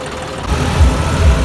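A John Deere 5210 tractor engine runs close by, a deep rumble that swells after a quieter start and settles into a loud, throbbing low drone.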